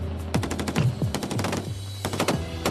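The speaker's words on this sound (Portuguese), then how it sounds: "bombas de iluminação e muitos tiros" Rapid bursts of gunfire crack in quick succession at night in a war against the Islamic State, sharp and loud, with short pauses between volleys and a low rumble underneath.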